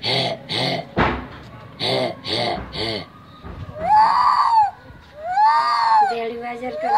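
A young Nepali woman vocally imitates monkey calls, giving a few close, loud, wavering whoops and shrieks after some short voiced bursts, with no other talking.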